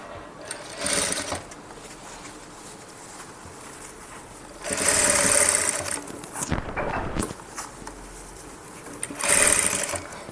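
A sewing machine stitches along a garment neckline in several separate bursts, each a close, buzzing run lasting a second or so, with quieter handling sounds between runs.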